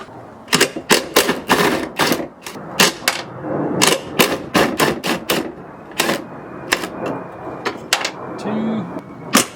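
Ratchet and tool work on the 10mm bolts of a mounting bracket in the engine bay of a 2010-2015 Toyota Prius, heard as a dense run of sharp metallic clicks and clacks in quick irregular bursts, close and fairly loud throughout.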